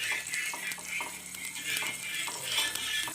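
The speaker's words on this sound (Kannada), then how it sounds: "ತವಾ ಕಾದಿದೆ, ಎಣ್ಣೆ ಹಾಕ್ತಾಯಿದ್ದೀನಿ." Oil sizzles on a hot tawa griddle, a steady bright hiss with soft rhythmic scraping or stirring pulses, close and fairly loud, with no talking.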